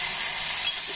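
Tomatoes and ground spices fry in hot oil for pepper rasam, giving a short, steady, close hissing sizzle with no voices.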